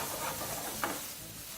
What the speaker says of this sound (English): So we're just going to keep frying that for just a few more seconds.